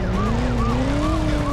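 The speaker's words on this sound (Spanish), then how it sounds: "Oh no, otra patrulla." Police car siren in the PlayStation game Driver from 1999, a rapid repeating wail cycling several times over a continuous engine drone, loud and close.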